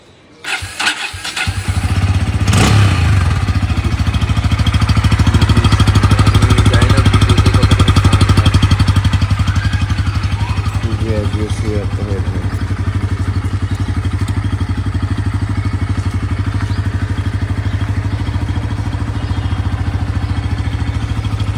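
A Bajaj Pulsar N160 dual-ABS fuel-injected motorcycle from 2023 starts after a brief crank, then idles loud and close with a steady throbbing rumble for about twenty seconds, with no voices over it.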